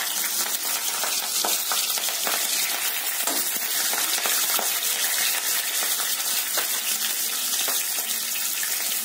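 Chopped green chilies and a bay leaf fry in hot oil for an ivy gourd kurma, giving an unbroken, loud, hissing sizzle with scattered crackles.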